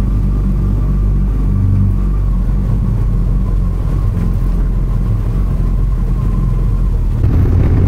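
A motorcycle ridden along Needles Highway in the Black Hills gives a steady, loud engine rumble with constant road and wind roar, close and unbroken for the whole stretch.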